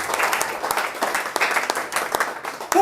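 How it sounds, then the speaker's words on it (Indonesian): A church congregation applauds and cheers for Jesus during a sermon, with dense steady clapping from many hands and crowd noise throughout. "Berikan sorak-sorai buat Yesus."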